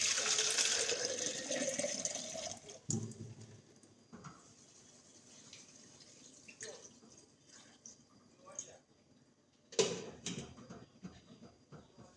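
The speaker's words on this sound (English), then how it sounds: "so put in the water for my chicken back" Water runs and splashes into a cooking pot for Jamaican curry chicken back in a home kitchen, a faint steady pouring that stops and gives way to a few soft knocks and clatters.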